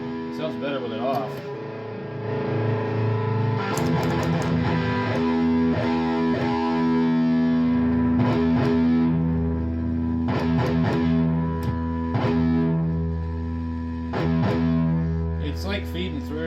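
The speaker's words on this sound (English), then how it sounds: "Now the distortion is horrible" A guitar with lots of gain plays through an Arion Hott Watt amplifier, giving a harsh, buzzing distorted tone with sustained chords and note changes, steady and fairly loud throughout.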